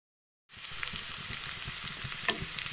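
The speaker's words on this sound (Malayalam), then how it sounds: "ഞാൻ ഈ ഉള്ളിയൊക്കെ വാറ്റാൻ വെച്ചിട്ടുണ്ട് കേട്ടോ അതൊക്കെ വാടി തുടങ്ങുന്നുണ്ട്" Onions sauté in a hot pan with a sudden onset of steady sizzling and crackling, close and fairly loud, with scattered pops and faint stirring scrapes throughout.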